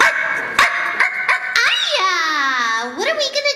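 Ein the dog from Cowboy Bebop barks in a quick run of short yips and barks, followed by a long whining, warbling howl, close and loud, with a voice babbling alongside.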